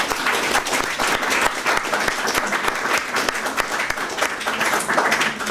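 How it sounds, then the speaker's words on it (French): Sustained applause for a prize winner at a Maurice Haber prize ceremony, dense steady clapping from an audience with a faint voice or two beneath it. "Je crois qu'on peut l'applaudir."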